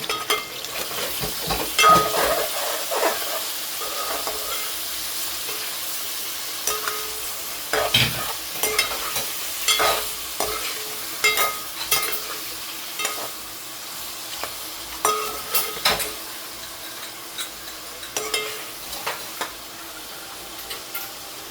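Food sizzles steadily in an oiled pan while a spoon scrapes and stirs it in irregular bursts, the clacks and scrapes standing out close over the continuous frying hiss.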